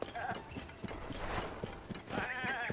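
Hooves of a goat clop along the ground in Zelda: Tears of the Kingdom, a soft irregular patter mixed with game ambience and a brief animal call, with a voice talking over it.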